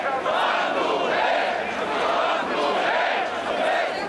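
A huge crowd demonstrating on Maidan Independence Square in Ukraine, a dense, steady roar of many voices shouting and chanting, loud and continuous throughout.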